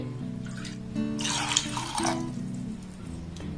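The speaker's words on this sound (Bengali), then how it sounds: "এবার ওই বাটির মাপ করে এখানে আমি তিন বাটি জল দিয়ে দেব" Water poured from a bowl into a pot of sago, a steady splashing pour in the foreground running for a few seconds with a brief louder gush partway through.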